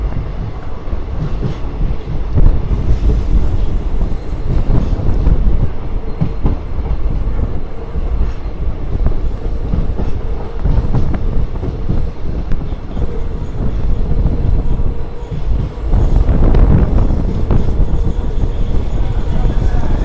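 A train rumbles steadily along the tracks between Rameswaram and Mandapam over the Pamban railway bridge, a continuous loud roar with faint rhythmic clatter, heard from on board.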